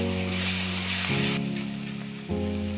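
Bay leaf, ginger, onion and garlic paste frying in hot oil for an egg curry, a steady, bright hiss of sizzling close by that carries on throughout, with low background music tones.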